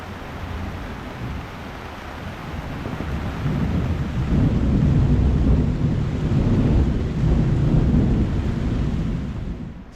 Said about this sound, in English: there's been some super heavy thunderstorms the last 2 days, and this one has been pretty crazy